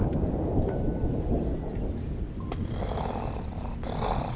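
Storm in a Halloween Kills movie scene: steady loud rain and rumbling thunder fill the whole stretch, with a sharp crack partway through and swelling rumbles near the end.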